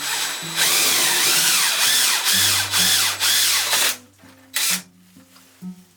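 A power drill whines in repeated bursts, loud and close, with short pauses between pulls while drilling holes for a slop sink installation, then a few brief clicks and a final short burst of drilling.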